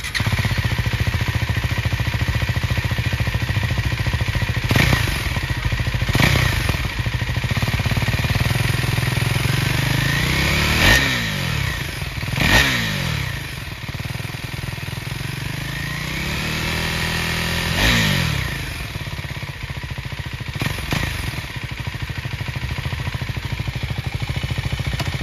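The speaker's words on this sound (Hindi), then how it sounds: "तो चलो इसका एक बार एग्जॉस्ट साउंड सुन लेते हैं." A 2024 Husqvarna Svartpilen 401 motorcycle's exhaust, idling steadily with a loud close rumble, punctuated by several sharp throttle blips that rev up and fall back, with no talk.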